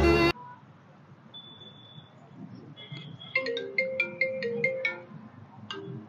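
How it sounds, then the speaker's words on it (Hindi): A mobile phone ringtone plays a bright, repeating electronic melody of short beeping notes, clear and fairly close, over a faint background murmur. "फोन आन लाग रहा भाई"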